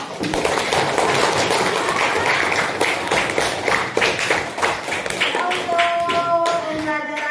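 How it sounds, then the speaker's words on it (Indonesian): Schoolchildren in a classroom clap together for all the groups, a loud, continuous patter of hands that gives way to voices near the end. "Kasih aplaus dulu untuk semua kelompok"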